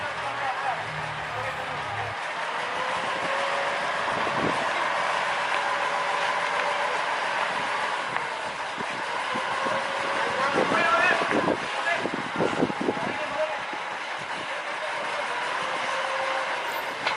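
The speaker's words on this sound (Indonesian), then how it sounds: "lokomotif tetap melanjutkan perjalanan" Small sugarcane lorry locomotive creeping along an old, long-unused rail line overgrown at a sugar mill, giving a continuous mechanical drone with clanks and rattles of the wheels over the track, fairly close.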